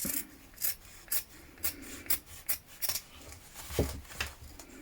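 Scissors snipping into shirt sleeve fabric at a sewing table, a series of about nine short, crisp cuts in an uneven rhythm, close and fairly quiet.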